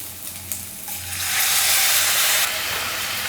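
Water poured into a hot pan with leftover masala sizzles loudly, a bright steady hiss that swells after a second and then holds, with faint clinks of stirring.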